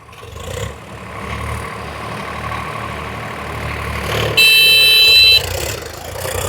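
A Swaraj 855 tractor engine runs steadily in fourth gear, medium range, with a low, rumbling drone. A brief high-pitched whine rises over it near the end.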